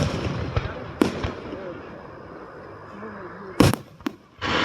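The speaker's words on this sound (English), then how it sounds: "These are some really pretty fireworks, just by the way, YouTube" Fourth of July fireworks with sparkling glitter effects burst in a few sharp, loud bangs separated by crackling lulls, outdoors with faint background murmur.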